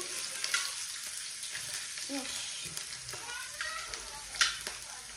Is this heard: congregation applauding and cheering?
no